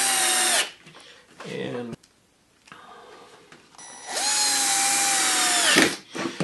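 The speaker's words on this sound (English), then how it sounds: "I'm going to put a couple of pan head screws here." Cordless power drill driving pan head screws into a wooden jig: two loud whirring bursts that ramp up and stop, separated by quiet handling noise and a brief spoken word.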